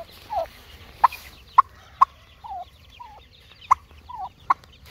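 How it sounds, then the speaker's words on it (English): Turkey hen and young turkey poults housed together with chicks in a brooder pen; repeated sharp peeps and short chirps sound close by, alongside soft gobbling and clucking calls, with no talk. "Took the turkey hen and I put her in here with the baby turkeys."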